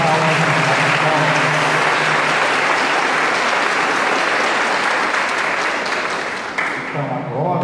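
A congregation at Mass claps steadily for the priest, a dense, loud round of applause that holds throughout and thins slightly near the end.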